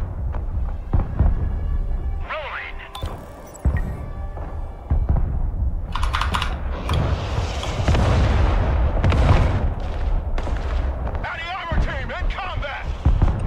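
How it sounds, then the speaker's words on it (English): Artillery fire and explosions in the video game Broken Arrow: repeated heavy booms and blasts, some close and some distant, with a voice talking over the battle. "Oh, they got artillery now."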